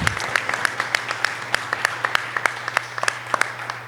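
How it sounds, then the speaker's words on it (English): Attendees at the GUADEC 2024 annual general meeting give a round of applause in a room with a low electrical hum, steady clapping with sharp individual claps standing out near the microphone. "So if you could all give him a round of applause for all his work, that would be great."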